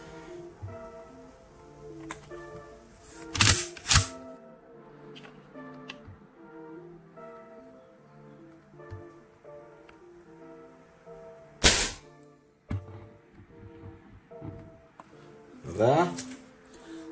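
Z-Ram HDX 68 pump-action launcher being fired in a test, with a few sharp snapping shots and clacks spread apart over quiet background, one louder crack near the middle.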